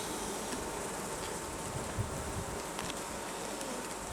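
Honey bees swarm around an open hive during a beekeeping check of food stores, giving a steady, dense buzz that holds level throughout with no speech over it.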